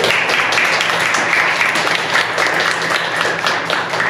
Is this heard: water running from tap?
no